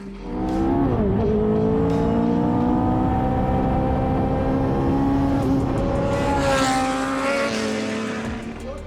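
A Lotus racing car engine roars loudly and steadily, revving up and down through gear changes with a sharp, high-pitched whine.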